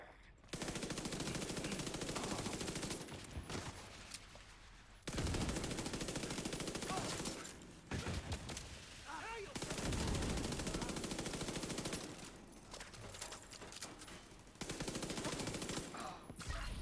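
Gunfire in The Division 2, a tactical shooter game: long bursts of rapid automatic fire in several loud stretches, broken by short gaps, with occasional single shots mixed in.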